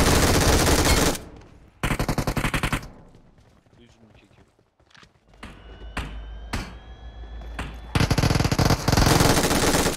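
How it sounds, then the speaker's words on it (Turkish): Loud automatic gunfire in a car-combat video game, several dense bursts up close separated by quieter gaps holding scattered single shots and clicks. "Mermi bitiyor ya sıkınca."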